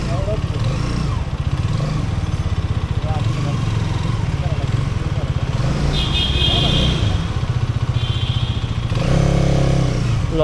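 A Hero Xmr 210 motorcycle runs on a test drive, its engine droning steadily and loudly throughout with wind noise and rattling, while someone talks over it.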